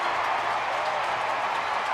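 A crowd of more than 38,000 at a San Francisco Giants baseball game roaring after a walk-off home run: a dense, steady wash of cheering and clapping throughout, without pauses.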